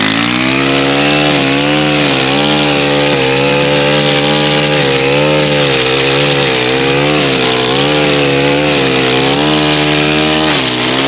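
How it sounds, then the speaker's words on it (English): A Stihl FS 91R four-stroke string trimmer runs close and very loud, its engine droning steadily with small rises and dips in pitch throughout, and no voices over it. "let's start up the Stihl FS91R. See what it can do."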